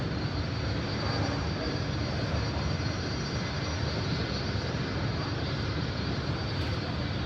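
Airplanes at San Francisco airport give off a constant broad jet engine roar, steady and fairly loud, heard from a terminal with no break in the noise.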